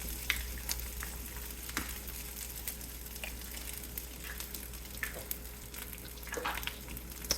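Eggs crack into a pan and fry with a continuous crackling sizzle, scattered pops and spatters rising over a steady hiss, close and fairly quiet throughout.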